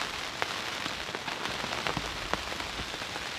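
Rain falls steadily on a surface outdoors under a cloudy sky beside a carp fishing spot, a dense continuous patter with scattered sharper drops, no voices.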